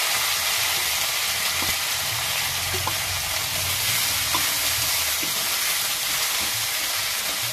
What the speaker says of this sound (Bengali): এবার আমি সব মশলাগুলো তুলে দিচ্ছি